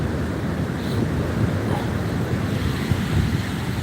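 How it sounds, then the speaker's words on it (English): Strong wind buffets a cell phone microphone over a constant roar of surf on a beach in Da Nang, Vietnam, loud and unbroken throughout. "the beach is too noisy. It's too windy."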